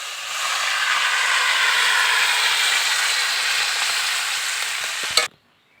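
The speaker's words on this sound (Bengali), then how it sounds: "তরকারির মধ্যে জল দিয়ে দিয়েছি" Water poured into a hot drumstick vegetable curry hits the pan with a loud rushing hiss and sizzle that holds steady for about five seconds, then stops abruptly after a short clatter.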